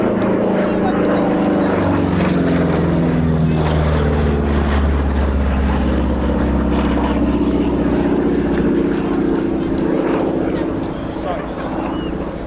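A P-47 fighter swings back round at an air show, its piston-engine propeller drone loud and steady with shifting harmonic tones as it passes, while a commentator talks throughout.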